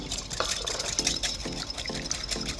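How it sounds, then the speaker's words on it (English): Eggs and milk are whisked in a bowl, giving a rhythmic series of quick wet swishes and light clinks repeating about twice a second, close and moderately quiet. "we're gonna whisk our eggs with the milk. So we're gonna start whisking this."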